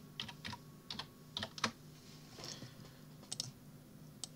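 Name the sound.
typing text on a computer keyboard in Inkscape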